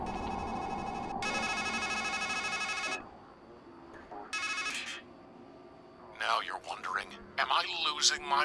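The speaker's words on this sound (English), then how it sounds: "the phone's ringing" Telephone ringing in the Strangeland point-and-click adventure game, two long electronic ring bursts followed by a shorter one, then talk takes over.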